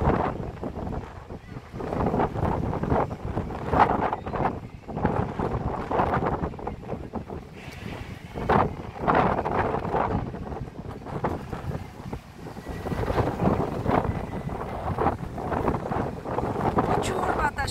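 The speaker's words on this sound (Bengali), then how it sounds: "প্রচুর বাতাস, প্রচুর।" Strong gusting wind at Sydney Harbour by Circular Quay, near the Opera House and Harbour Bridge, roars and buffets the microphone in uneven surges throughout, with faint voices and harbour sounds underneath.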